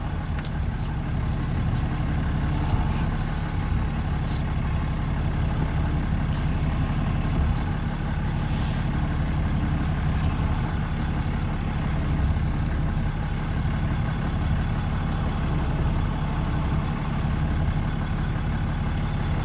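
A truck engine idles steadily nearby while its power steering fluid is changed, a continuous low rumble with no revving and no talk for nearly twenty seconds.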